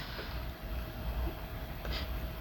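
A big freight train with hopper cars, tanker cars, box cars and refrigerator cars rolls past, giving a steady low rumble of wagons at moderate distance, with a brief higher screech near the end.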